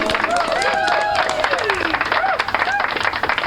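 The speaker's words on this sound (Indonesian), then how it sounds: "Beri tepuk tangan untuk Pak Reza dulu." A crowd claps and cheers steadily throughout, with whoops and voices rising over the applause.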